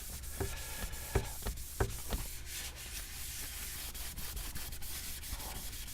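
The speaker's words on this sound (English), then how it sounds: "Just squirt some on the kitchen roll and clean off any sort of residual grease, dirt, dust." Kitchen roll dampened with isopropyl alcohol rubs across a car console surface, giving soft papery scrubbing strokes with a few sharper scuffs early on, close and steady with no talk.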